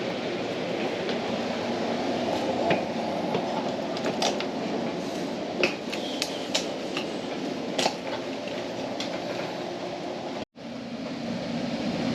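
A train rolls steadily along the rails with a constant rumbling roar and intermittent clicks and clacks of the wheels, with no talking.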